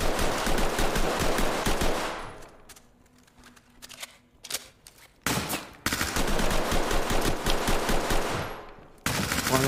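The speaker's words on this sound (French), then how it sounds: "je mets 50 balles, mais toi tu me tires une balle" Gunfire in the tactical shooter game Ready or Not: dense automatic bursts roar loudly, thin to a few scattered single shots and clicks, then erupt again into sustained rapid fire.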